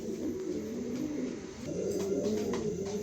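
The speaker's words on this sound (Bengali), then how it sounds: "এখানে এক পেয়ার কবুতর দিলাম মিলি পাইটের ভিতরে" A pair of pigeons in a loft coo softly and repeatedly in low, rolling calls, heard close and steady with no talking.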